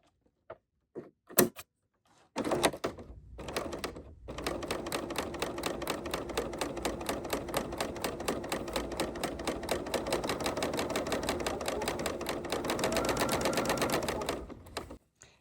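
A serger stitches a wide 2-thread wrap stitch to make fringe, starting after a few faint clicks and then running as a steady, fast, even mechanical whir for about ten seconds before stopping.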